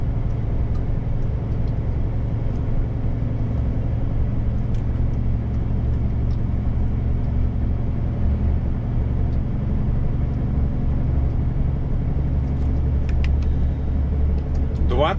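A heavy Volvo truck grinds uphill under load, its engine a steady, loud low drone with constant rumble throughout, heard from inside the cab.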